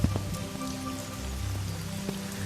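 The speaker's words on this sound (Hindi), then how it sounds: "झुमाझुम बारिश शुरू हो गई" Heavy rain pours steadily onto a surface in a dense, even hiss, with a few nearer drips standing out.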